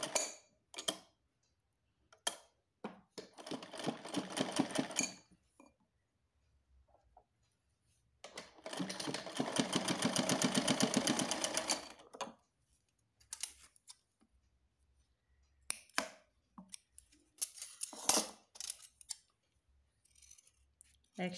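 A sewing machine stitches silky cloth for a small doll dress, running in short bursts of rapid mechanical clatter separated by pauses, close and fairly quiet, with a few clicks between runs.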